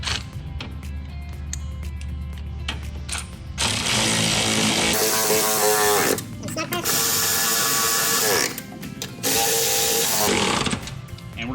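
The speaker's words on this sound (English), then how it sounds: "now we're going to be torquing these 14 millimeters down" Rapid ratcheting clicks and louder stretches of power-tool buzzing come from torquing 14 mm lift kit bolts on a 2015–2021 Subaru Outback, close by and in several bursts.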